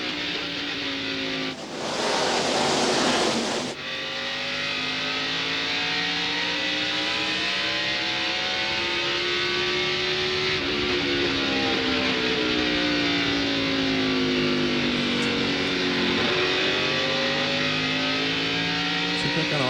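NASCAR stock cars race down the backstretch at the 2000 Pontiac Excitement 400, their engines screaming at high revs with rising and falling pitch as they pass, and a brief burst of broadband noise early on.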